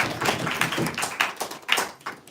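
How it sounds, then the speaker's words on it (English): An audience at a Janmashtami celebration gives a short, sparse round of applause, with irregular individual claps close by rather than a full ovation. "One more round of applause for Love."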